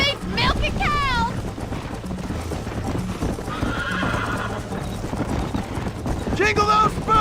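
A horse in the video game Red Dead Redemption gallops with quick steady clip-clop hoofbeats and neighs loudly near the start and again at the end, with wind noise and someone talking over it.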